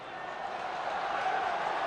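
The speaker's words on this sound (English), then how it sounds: "the crowd just getting behind them" A football crowd at a Burnley home league match against Oldham Athletic roars and cheers from a distance, a steady broad wash of noise building slightly, with faint commentary underneath.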